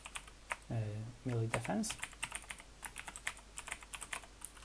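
Brisk clicking keystrokes on a computer keyboard, scattered and uneven, follow a short spoken phrase and continue alone at close range.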